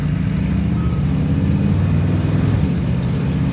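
A 1960 Chevrolet Impala driving, its low engine drone running loud and steady and then shifting pitch as it changes gears, with no talk.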